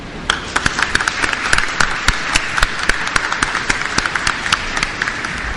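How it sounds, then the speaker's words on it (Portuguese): A conference audience applauds an honoree with a steady, dense wash of clapping, and louder individual claps stand out throughout. The clapping holds at an even level for several seconds with no speech. "Eu peço uma salva de palmas"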